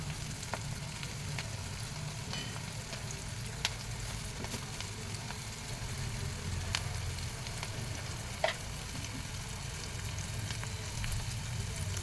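Onions and green chilies frying in a pan for a raw prawn curry, a steady soft sizzle with occasional clinks of a stirring spoon.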